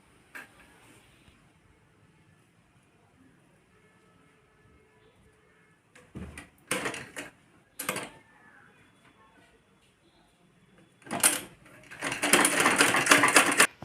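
Sewing machine stitching the shoulder seams of a kurti, heard as short bursts of rapid mechanical clatter separated by quiet pauses, ending in a longer, louder run of stitching.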